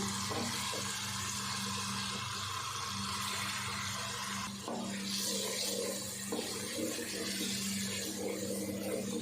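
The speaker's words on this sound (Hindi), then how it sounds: "अच्छा सा मसाला हमारा भून गया" Masala with spices and tomato paste frying in a pan on low heat for paya, a steady quiet sizzle with faint stirring scrapes throughout, no talk.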